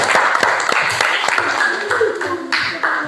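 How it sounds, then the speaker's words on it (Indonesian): A classroom of students clapping together, a scattered run of sharp hand claps that starts brisk and thins out, with voices chattering in the room around it. "Iya, tepuk tangan dulu"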